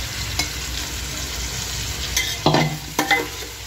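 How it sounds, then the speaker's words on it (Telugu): Chicken stirred into frying Hyderabad-style biryani masala, a loud dense sizzle with clattering spoon scrapes and thumps toward the end, close up with no speech. "ఇలా వేసుకున్న చికెన్ని మనం శుభ్రంగా కలపాలి"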